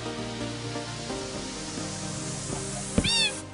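A cat gives a single short meow in the video game Minecraft, rising near the end after a stretch of soft, humming in-game ambience.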